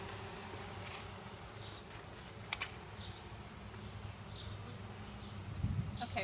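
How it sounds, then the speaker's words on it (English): Honey bees buzz in a hive during package installation, a faint, steady drone with soft intermittent rises, heard close and alone without speech. "Now I can feel the vibration in the hive just from their"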